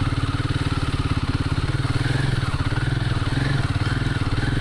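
A motorcycle on the Kolkata to Sandakphu route, throttled gently while crossing a fast-flowing stream: a close, steady, rapid engine chug with a broad rushing noise underneath, no other voices.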